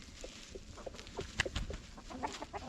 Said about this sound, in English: Now the chickens know where to go at nighttime.